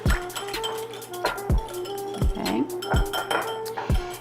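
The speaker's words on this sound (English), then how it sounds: "I use a whisk. Whisk this up really nicely." A whisk beats a DIY facial mask mixture in a bowl, giving rhythmic metallic clinks and scrapes roughly every half second, close and clear, with no talk.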